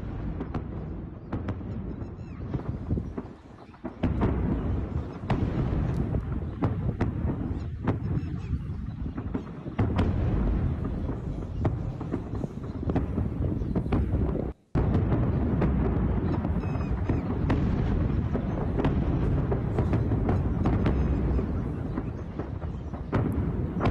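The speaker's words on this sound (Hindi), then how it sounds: "ये दिल दहलाने वाले धमाके जिनकी आवाज काफी दूर तक सुनी गई" Large explosions at an army depot in Sialkot, Pakistan, heard as a long sustained rumbling roar with repeated sharp cracks and booms scattered throughout, distant and wind-buffeted, with a brief dropout midway and no speech.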